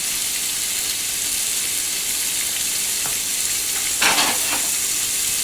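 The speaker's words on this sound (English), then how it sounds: "I'm going to saute it" Peppers, garlic cloves and a small onion sizzle steadily in a hot pan, a constant bright frying hiss with a brief clatter of stirring near the end and no talk.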